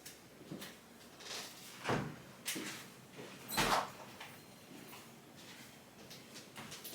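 A kitchen refrigerator door opening and closing, with several soft thumps and clicks over a few seconds, the loudest near the middle, against a quiet room.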